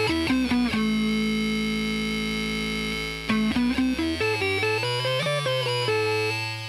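A Red Witch Synthotron pedal with its synth level turned up plays a run of distorted, buzzy synth-guitar notes: a quick burst, a long held tone, then a busier string of choppy notes, with no talking.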